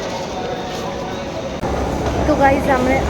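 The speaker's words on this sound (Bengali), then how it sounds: "আমরা এখন ফার্স্ট টাইম হাওড়া মেট্রোতে উঠলাম" Howrah metro underground train rumbles along with a steady low drone and rising clatter, a brief jolt midway, and faint tonal squeals near the end; people talk nearby.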